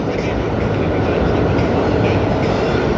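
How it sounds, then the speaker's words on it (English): Trains passing through New York City fill the air with a loud, steady rumble and rattling clatter of rail cars, continuous throughout with no pause. "As one train leaves, another train arrives"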